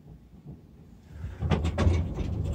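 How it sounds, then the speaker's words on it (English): A Schindler elevator's dual-speed sliding door rolls and thuds in an old birdcage-style car at an inn, starting quietly and building into a rumbling slide with a couple of sharp clunks as the panels travel and stop. "Dual speed door."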